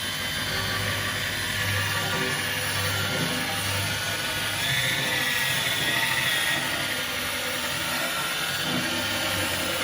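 Electric rotating grill brush scrubbing a greasy grill grate after a degreaser spray, a steady continuous whirring and scraping that runs close and fairly loud through the whole stretch with no talk.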